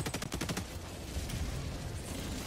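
Autocannon fire in Helldivers 2, a quick run of rapid, evenly spaced shots at the start, then a fading rumble, all fairly faint.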